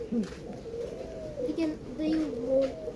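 Pigeons coo in a forest in a series of soft, low, warbling calls close by, with people, including a child, talking over them.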